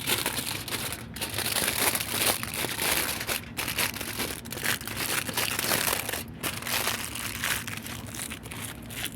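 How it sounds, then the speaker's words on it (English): Aluminium foil being rolled and crumpled by hand around a rose air-layer, a steady run of close, dense crinkling and crunching that carries on with short pauses and no talk. "So I will roll the foil in here."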